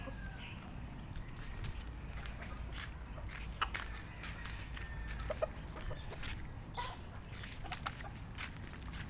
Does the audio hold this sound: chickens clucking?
yes